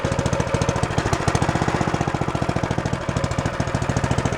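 A cheap mini bike's small single-cylinder engine runs just after starting on the first pull with fuel and choke on, a loud, close, rapid chugging putter in a steady rhythm.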